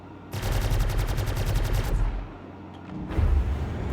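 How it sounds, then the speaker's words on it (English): The Greycat MTC vehicle's mounted gun in Star Citizen fires a rapid, loud automatic burst for over a second and a half, then a heavy rumbling boom follows after a short lull. "You can see the gun come up now. And we can fire it as the pilot."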